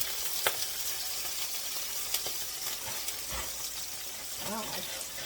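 Frozen peppers sizzling in a frying pan for stir-fried rice, with a steady, loud hiss and crackle of water hitting hot oil, plus a few scraping clinks of a utensil.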